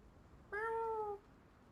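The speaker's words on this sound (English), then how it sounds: "My cat's meowing and trying to open our door." A single drawn-out cat meow, clear and fairly close, lasting just over half a second against a quiet background, with no talking.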